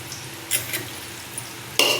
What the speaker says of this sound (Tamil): நல்லா வதக்குங்கம்மா.